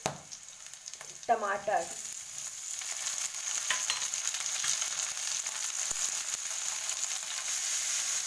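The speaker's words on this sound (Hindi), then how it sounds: "ये देखिए, बस इतना ही भूनना है, बहुत लाइट ब्राउन करना है।" Mushrooms fry in a pan, browning lightly, with a steady close sizzle that builds over several seconds. A brief spoken word comes near the start.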